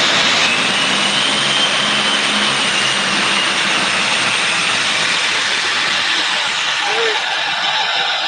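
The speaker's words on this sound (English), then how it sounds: "That says Alley Cat Indoor Tractor Pull 2008." Alley Cat tractor with an Allison engine, supercharged and fuel injected, roaring at an indoor tractor pull, played back as a loud, sustained engine howl that barely changes throughout.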